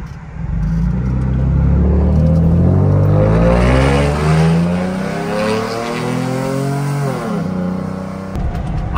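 A Ford F-150 pickup truck accelerating hard, a loud rising engine roar heard from inside the cab through gear pulls, easing off near the end.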